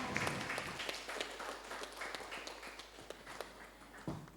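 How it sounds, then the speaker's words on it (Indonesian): A school audience applauds after a student council chair and vice-chair candidate debate at a high school in Mempawah, with scattered, fairly faint clapping from a room of students that tapers off near the end. "Mari kita berikan tepuk tangan yang meriah."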